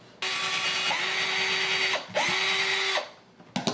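Power drill boring screw holes through a Telecaster guitar pickguard, two sustained whirring bursts of about two seconds each with brief spin-down pauses between, then a short final burst, close and loud.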